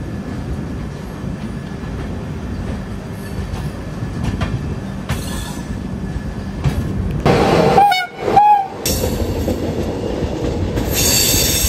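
Passenger train 12193 from Yesvantpur to Jabalpur runs with a steady close rumble of wheels on rails, then a sharp squeal and a loud horn blast near the end.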